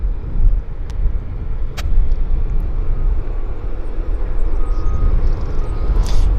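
A WestJet airliner takes off at Vancouver airport with a loud, steady, broadband jet roar and deep rumble that holds throughout.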